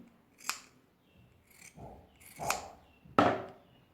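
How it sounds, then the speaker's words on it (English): Scissors snip through fabric for a homemade non-surgical face mask in four separate crisp cuts, close and fairly quiet, with the last cut the loudest and nothing else heard. "You cut this open. Make sure it's the same when you're cutting it"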